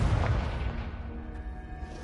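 A fiery Confringo spell blast in the Hogwarts video game, one booming explosion at the start that rumbles and fades out over about two seconds, with no talking.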